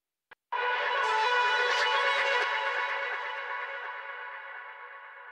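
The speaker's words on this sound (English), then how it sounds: "what makes the sound here are these effects, the thermal, the echo, and the reverb" A brief click, then a sustained synth tone in Ableton Live washed in thermal, echo and reverb effects, its shimmering tail slowly fading.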